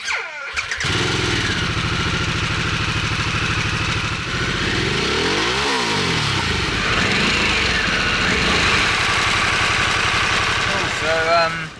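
A 2022 Harley-Davidson Sportster S motorcycle engine starts up, idles with a deep rumble, then revs up and down a few times, loud and close.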